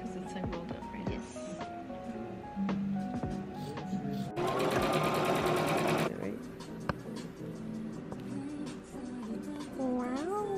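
Sewing machine stitching fabric for a cosplay outfit, a loud rapid burst of stitching for about two seconds amid background music and people talking nearby.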